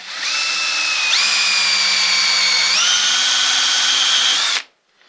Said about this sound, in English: we'll just ream all of these out